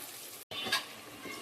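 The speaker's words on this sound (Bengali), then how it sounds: "তো এদিক দিয়ে যে মশলা কষানো হইতেছে তরকারির জন্য।" Spices sizzle and fry in a hot pan for a curry, a steady crackling hiss with a brief stir break partway through, close and fairly loud, with no talking.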